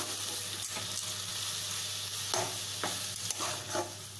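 Pineapple sheera being stirred in a pan, with a spoon scraping in a few soft strokes over a steady low hiss and hum.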